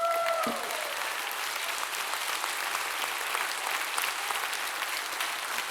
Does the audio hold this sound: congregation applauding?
yes